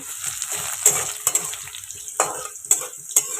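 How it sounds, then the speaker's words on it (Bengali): Potatoes fry in oil, a faint, close sizzle punctuated by several sharp clinks and scrapes of stirring against the pan, with no talking. "এখানে একটু আলু ভাজছি।"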